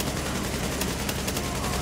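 Dense gunfire crackles continuously in the video game The Division, a noisy steady wash of overlapping shots at moderate loudness with no clear separate reports.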